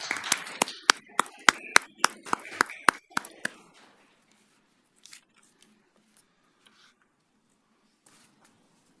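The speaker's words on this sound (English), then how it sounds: "I'm not so sure that warranted a round of applause" Brief scattered applause at a Springfield school committee meeting: about a dozen distinct claps over three seconds, fading into a quiet room with faint rustles and murmurs.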